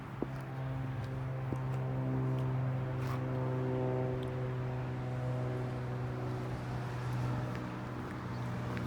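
A pickup truck hitched to a trailer idles and eases backward, its engine droning with a steady low hum at moderate distance, a few faint clicks over the top and no talking.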